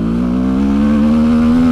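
A Fantic 125 motorcycle in first gear has its throttle blipped: a loud, close engine drone rises steadily in pitch as it revs, heard alone for under two seconds.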